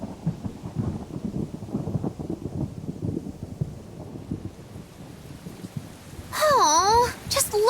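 A rainstorm with thunder in the video game Tales of Berseria, with rumbling, rain-like noise that fades out partway through, then a burst of loud warbling, sweeping effects near the end.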